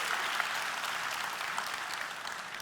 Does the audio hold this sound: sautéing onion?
no